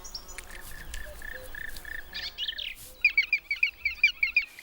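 Black woodpecker chicks call from a tree-hollow nest in the Balkan mountains, first a series of high repeated chirps, then a rapid, loud run of sharp, insistent calls pulsing in quick succession.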